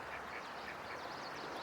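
Several small ducks quack in a dense, overlapping chorus at moderate distance, with steady outdoor background noise underneath and no clear voices.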